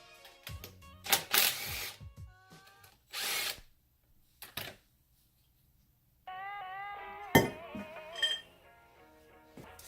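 An impact tool fires in several short whirring and rattling bursts while removing the clutch flywheel from a car with a 1.5JZ engine and twin-disk clutch, with quiet gaps between bursts and a longer rising whine near the end.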